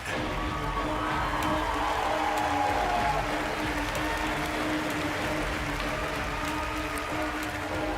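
A large audience at the E3 2019 Bethesda showcase applauds and cheers steadily, a dense continuous wash of clapping and whoops heard from within the hall, with no talking over it.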